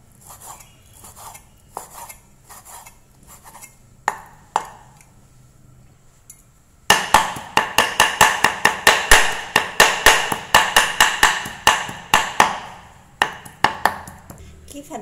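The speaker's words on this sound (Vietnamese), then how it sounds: "Băm nhỏ phần thịt này ra." Knife chopping chicken meat on a cutting board, a steady run of sharp, close, rapid thuds after a few sparse taps and a brief pause, with no talk over the chopping.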